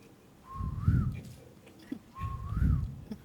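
A person whistles an imitation of a koel's call, two rising-and-falling whistled phrases over a low rumbling background.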